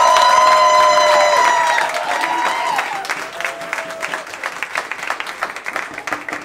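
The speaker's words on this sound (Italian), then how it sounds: "gradirei un applauso con un po' più di entusiasmo" Enthusiastic audience applause and cheering for a band's debut performance, loud and dense at first, then thinning into scattered claps with a few voices in the crowd.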